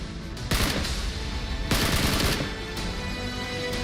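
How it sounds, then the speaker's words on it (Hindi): Bursts of rapid automatic gunfire fired at the Bamiyan Buddha statues, loud and continuous, with sharper volleys standing out over a dense crackling roar. "इसमें तालिबान के आतंकी बामियान इलाके में मौजूद बुद्ध की मूर्तियों पर गोलियां बरसाते हुए देखे जा सकते हैं"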